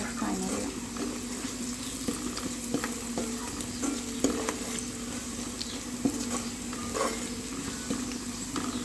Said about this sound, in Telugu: ఒక 2-3 minutes ఫ్రై చేసుకోవాలి, బ్రౌన్ కలర్ వచ్చే వరకు ఆనియన్స్.